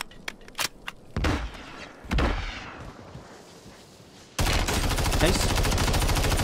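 Gunfire in the video game Warzone during a ranked match: a few sharp shots, then heavy booming bursts and a dense, continuous automatic rattle, loud and close, with a voice briefly heard.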